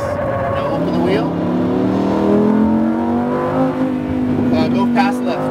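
A Lamborghini Huracan LP on a racetrack lap, its engine note rising and falling through downshifts and acceleration, loud and close from inside the car, with a voice coaching over it throughout.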